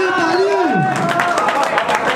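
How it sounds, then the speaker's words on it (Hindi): A crowd claps and cheers at a heavyweight goat championship in India, a dense burst of clapping mixed with chatter and babble, close and loud, following a rising-then-falling tone at the start. "131 131 माजरा सोनी भाई के लिए तालियां।"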